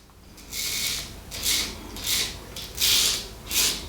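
Wilkinson Sword Edge safety razor scraping over stubble in five short rasping strokes with brief pauses between them, close and crisp with no talking.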